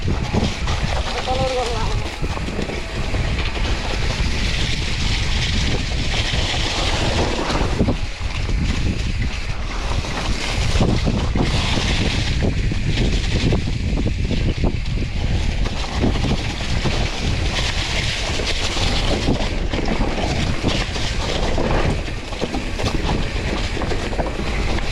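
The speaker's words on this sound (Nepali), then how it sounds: "हावा चाहिँ बढी भयो क्या" Strong wind roars steadily and buffets the microphone during a mountain bike ride, with voices faintly mixed into the rushing noise.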